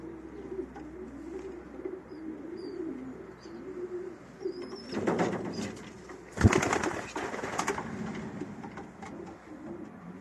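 Outdoors near feeding starlings, soft bird calls and cooing go on over a low background hum, with a short burst of louder rustling and chirps midway, no voices.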